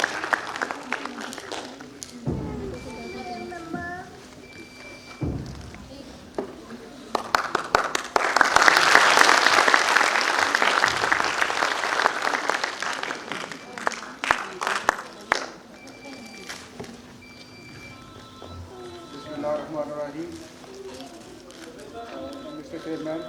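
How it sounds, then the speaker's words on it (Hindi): Applause from an audience at a foundation ceremony in Rawalpindi as a colonel is welcomed onto the stage, swelling to a loud dense burst midway, with someone speaking over the clapping before and after. "भरपूर तालियों से इस्तकबाल करें"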